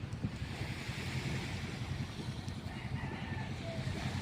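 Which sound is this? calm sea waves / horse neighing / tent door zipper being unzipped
calm sea waves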